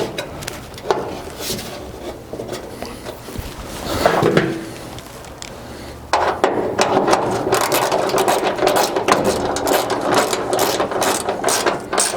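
A ratchet clicks in quick, steady bursts, close by, tightening a hood brace bolt on a Chevy squarebody truck, with a brief pause before a longer run of rapid clicking.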